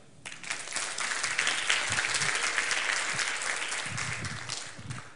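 Steady applause from a crowd, dense clapping that holds at an even level throughout, with faint voices mixed in.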